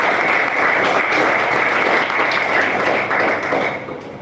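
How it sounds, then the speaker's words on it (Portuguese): A church congregation claps together in a dense, steady burst of applause at a loud, constant level, tapering slightly toward the end. "Vem bater palmas e dar mais glória a Deus."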